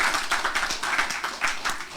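A church congregation claps together in a loud, dense burst of applause that carries on steadily for a couple of seconds, close and lively.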